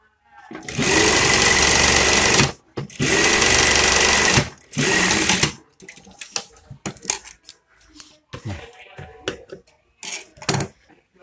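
A sewing machine stitching a scout uniform runs in three loud sustained bursts, followed by softer scattered clicks and knocks of fabric and parts being handled.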